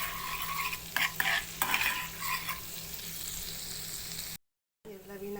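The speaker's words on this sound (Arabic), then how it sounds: "هنحمر التومة بس شوية." Garlic frying in ghee for molokhia, a steady close sizzle with scraping stirs and utensil knocks, cutting out briefly near the end before resuming.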